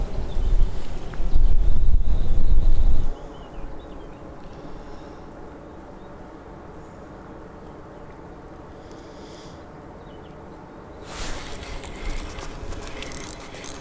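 Strong wind buffets the microphone while float fishing for crucian carp outdoors, loud gusty rumble at first, then a lower steady rush, rising again near the end.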